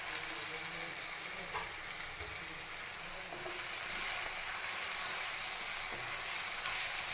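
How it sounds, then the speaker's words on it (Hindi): Pre-fried chicken goes into sizzling karela gosht in a karahi, giving a dense, continuous frying hiss that swells a little louder midway and carries on steadily up close with no voices. "इसके साथ ही हम डालेंगे चिकन, इसको हमने फ्राई करके साइड पे रख लिया था।"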